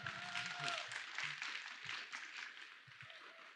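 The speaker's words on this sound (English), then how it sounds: "You guys can clap for yourselves too. Make it loud." Students applaud during a school Martin Luther King assembly, a soft, distant wash of many hands clapping together in a large room, with faint voices mixed in.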